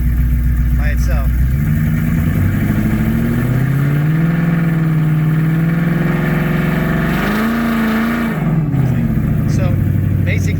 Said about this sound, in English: Basically you can just hit it, the car will basically neutral rev